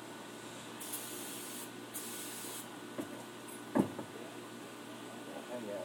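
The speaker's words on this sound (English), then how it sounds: "Spray paint." Two short, steady bursts of hissing spray paint from an aerosol can during a car front brake job, followed by a few small knocks and rustles.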